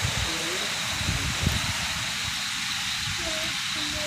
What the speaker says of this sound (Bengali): এখন বৃষ্টিটা খুব জোরেই হচ্ছে